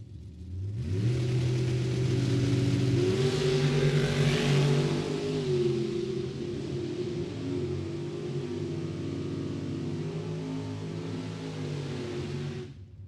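Drag racing cars, including Corey Selleck's Street Roadster, launch at a drag strip with a loud, sustained engine roar and layered harmonics that waver and slowly fade as they race away, with no talking.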